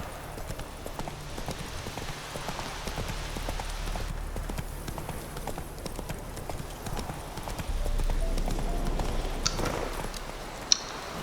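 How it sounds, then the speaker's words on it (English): Horse hooves clip-clop steadily over ground in The Witcher 3 video game, with a constant rhythmic walking beat under game ambience and faint background noise. "Whoa there, Roach."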